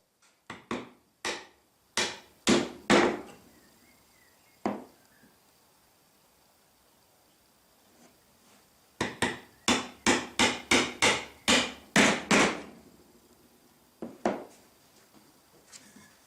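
Sharp, close chisel and mallet strikes on timber while chopping out the middle of a wood mortise, coming in quick bursts of blows separated by short pauses.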